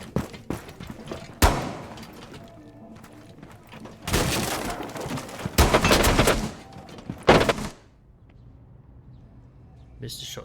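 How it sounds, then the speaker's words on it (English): Gunfire in Rainbow Six Siege, with several loud bursts of rapid shots separated by pauses, ending in a quieter stretch and one last sharp hit. "Missed the shots there."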